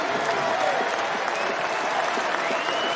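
A college baseball crowd in Chapel Hill, North Carolina rises to its feet in the bottom of the ninth of a tied regional game. Steady, dense applause and cheering roar without a break.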